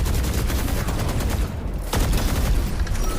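Heavy gunfire in a competitive Valorant esports match, dense overlapping shots and rattling bursts throughout, loud and near, with a brief dip before the firing resumes.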